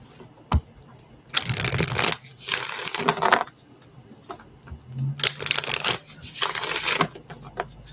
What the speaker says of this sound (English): shuffle this out.